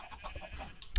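A sheep in the Minecraft video game bleats once, a short, wavering call lasting about a second, fairly close and clear with no talk over it.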